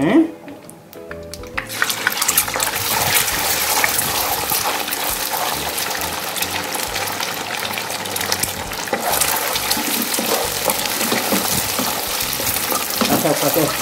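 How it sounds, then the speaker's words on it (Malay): A loud, crackling sizzle of an egg frying in a pan starts after a brief clatter and continues steadily, with occasional stirring sounds. "Lepas tu kita goreng telur terus"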